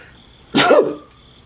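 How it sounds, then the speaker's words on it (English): A single sharp sneeze from a woman, close and loud, bursting out abruptly and fading within about half a second. "I'm going to sneeze."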